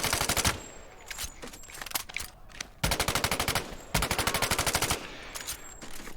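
Rapid automatic gunfire from World War II-era weapons in the VR shooter Medal of Honor: Above and Beyond, loud close bursts of fast repeating shots separated by brief pauses, with no talking.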